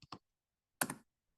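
Keys clatter on a computer keyboard as a command is typed in at an Ubuntu machine: two quick light taps, a pause, then a short dense burst of clicks, close and fairly quiet.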